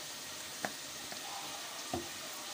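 Chicken with turmeric and spices frying in a pan, a steady soft sizzle with a few light clinks and stirring knocks, close and fairly quiet.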